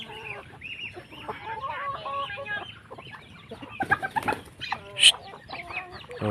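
Chickens on a tropical farm cluck and squawk in a steady, busy chorus, with a few louder, sharper calls near the end as feed is scattered nearby.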